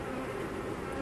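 Honeybees buzz steadily at a bee colony, a dense, close and continuous hum with no other sound over it.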